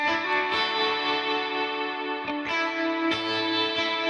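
An electric guitar with a clean, straight tone and a light reverb rings out sustained chords, with a few fresh strums cutting in over the lingering, shimmering decay, no voices.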